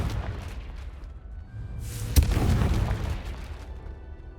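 A single Confringo blasting spell explosion in Hogwarts Legacy, a sharp crack followed by a deep booming burst that rolls and fades over a couple of seconds, with game ambience underneath.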